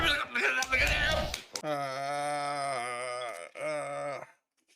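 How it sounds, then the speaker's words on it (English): A long, wavering bleat of a sheep, loud and close, with two drawn-out calls following a burst of crowd or speech noise during a wrestling watch-along. "Look at the sheep."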